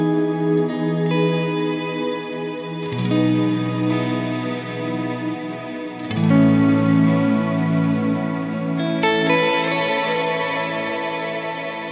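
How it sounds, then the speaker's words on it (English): A reverb pedal run in mono, adding wash and tails to sustained, chorus-like effected guitar chords that change every few seconds, with no stereo spread and no talking. "this is an example of using it in mono"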